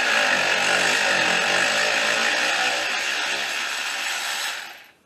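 A power tool spins loose a 12 mm bolt at the front strut of a 2008 Toyota Solara, giving one loud continuous whine that holds steady, then winds down and stops near the end.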